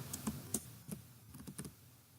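Keys tapped on a computer keyboard while code is written, a run of separate clicks at an uneven pace, close and fairly quiet, with no voices.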